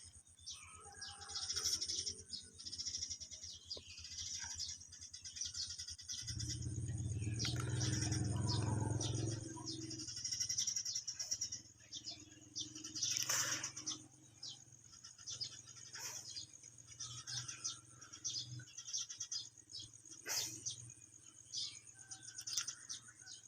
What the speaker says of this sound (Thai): มีเสียงนกแน่เสียงนกกระจาบแน่